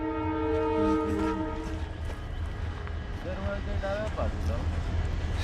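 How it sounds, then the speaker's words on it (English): A train runs along a beachside track in Goa, passing close by. Its horn blares in long, loud tones over a steady rail rumble. "See, a train is passing by."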